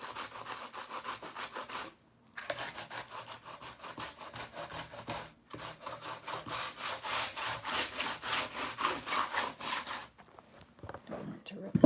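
Sandpaper wrapped around and screwed onto a wooden block is rubbed back and forth over reclaimed clay on a table, producing loud, steady rasping strokes in a repeating rhythm with two brief pauses.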